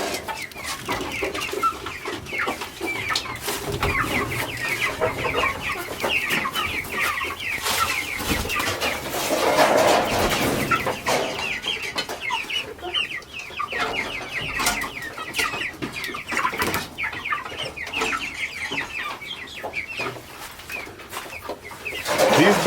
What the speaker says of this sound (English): These birds here that we have are called Kenya G chicken.